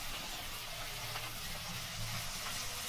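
Battered gobi manchurian pieces dropped into hot oil in a kadai, a steady bright sizzle and crackle of deep frying throughout, fairly quiet and close, with no voices.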